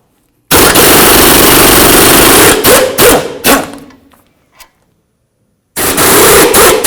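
Front wheel hub of a 2003-09 Toyota 4Runner having its 17mm mounting bolts taken out: a loud, close, continuous power-tool burst lasting about two seconds, then short stuttering bursts that fade, and after a pause another loud run.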